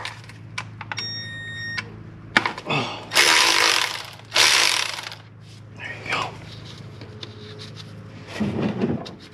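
Ratchet wrench working on the 8 mm fitting of the oil filter on a Porsche Cayenne Sport with the 3.6 twin-turbo engine, giving a few bursts of close mechanical clicking between quieter pauses.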